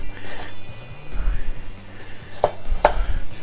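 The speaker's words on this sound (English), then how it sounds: "Now we're going to cut up some potatoes and carrots." Potatoes and carrots being chopped with a knife on a cutting board, a few irregular thuds with two sharp, distinct knocks near the end, close and alone.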